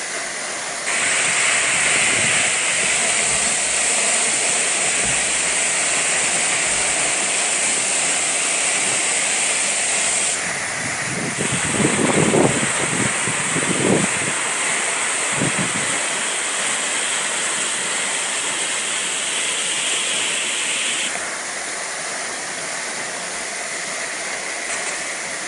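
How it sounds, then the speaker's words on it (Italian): The Papalini waterfall in the woods roars as a steady, loud broadband rush of falling water, continuous throughout, with a brief rustling disturbance near the middle. "dopo aver visto la bellissima cascata dei Papalini"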